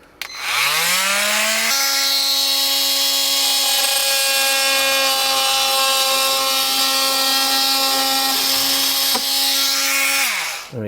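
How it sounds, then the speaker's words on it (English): An oscillating multi-tool cuts an opening into the wall of a 2022 Renegade RV, a loud, steady high-pitched buzz that spins up, holds for about nine seconds with a brief hitch, then stops. "We're going to be using a multi-tool to be able to cut this out."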